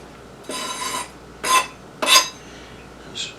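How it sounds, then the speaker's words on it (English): Bacon, eggs and green onion stirred in a pan, a utensil scraping the metal in three distinct close strokes, then a brief faint fourth scrape, with no talking. "Stir that around a little bit."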